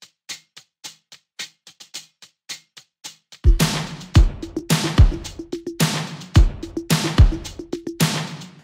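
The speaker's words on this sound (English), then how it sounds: "a hi-hat loop that I just pulled out of our Sweet Tooth pack" Hi-hat loop from the Sweet Tooth sample pack, pitched down an octave: a run of crisp, evenly spaced ticks that is joined midway by heavier rhythmic hits and a low tone, playing alone with no voices.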